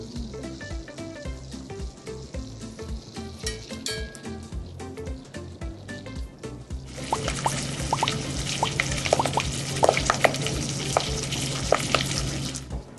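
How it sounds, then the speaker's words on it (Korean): Abalone sizzling in butter in a pot, a steady close frying crackle with occasional pops and stirring scrapes, growing louder and brighter partway through, with no talk. "그 냄비에다가 전복 버터구이를 해줄게요"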